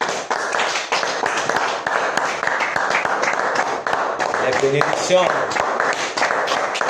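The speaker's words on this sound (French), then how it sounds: "Applaudissons pour le Seigneur Jésus." A church congregation claps for Jesus, rhythmic hand claps mixed with loud talk and singing throughout, fairly close and continuous.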